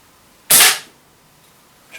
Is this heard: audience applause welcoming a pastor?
no